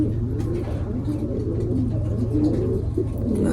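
Racing pigeon chicks coo softly and repeatedly in a close, steady murmur over a continuous low background hum.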